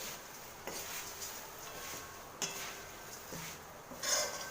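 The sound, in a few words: stirring thin poha in a pan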